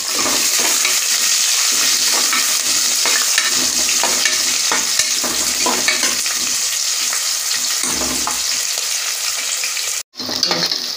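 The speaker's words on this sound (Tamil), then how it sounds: "இதெல்லாம் நல்லா வதங்கும்" Onion and green chilli sautéing in a pan, a loud steady sizzle broken by the scrape of stirring, close by, with a brief dropout near the end and no voices.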